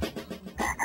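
Rapid, throaty croaks of cartoon frogs in a children's plug-and-play alphabet adventure game, a quick series of close, loud ribbits with no talk over them.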